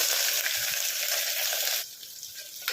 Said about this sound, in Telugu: ఇప్పుడు కట్ చేసుకున్న ఒక పచ్చిమిర్చి ఇంకా ఉల్లిపాయలు అయితే వేసుకుందాము